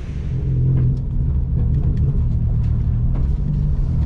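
Engine of a Honda Jazz race car on a track, a loud, steady low rumbling drone heard close up from inside the cabin, with no talking.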